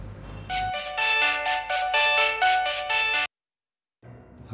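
A phone ringtone plays a repeating electronic melody in short bursts for about three seconds at close range, then cuts off to silence before faint room sound returns, in a Bengali TV drama serial.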